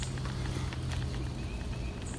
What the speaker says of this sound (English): Some horseback riding.